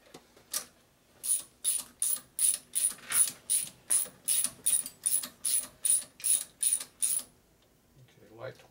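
Ratchet wrench tightening bolts on a Harley Shovelhead big bore stroker motor, about sixteen evenly spaced clicking strokes in a steady rhythm, close and clear.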